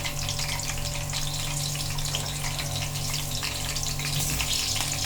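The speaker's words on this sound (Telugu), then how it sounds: "అందులో ఆయిల్ వేసి ఆయిల్ కొంచెం హీట్ అయ్యాక మనం ముందుగా కట్ చేసి పెట్టుకున్న పచ్చిమిర్చి వేసుకోవాలి." Cut green chillies fry in hot oil in a kadai, a loud, dense, continuous sizzle and crackle holding steady for about five seconds with no voices.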